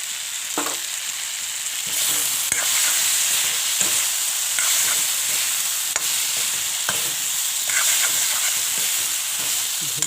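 Roasted crushed cumin being mixed with a spatula in a hot kadai, giving a steady close sizzle broken by repeated scraping strokes of the spatula against the pan, with no talking.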